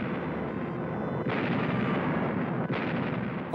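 Archival World War II naval bombardment by cruisers and destroyers: a dense, continuous roar of heavy gunfire and explosions, with two sharper blasts standing out amid the rumbling barrage.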